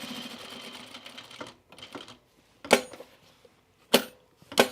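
A sewing machine stitching trousers: a soft, muffled run of stitching at first, then three sharp separate clacks spaced about a second apart, close and fairly quiet between them.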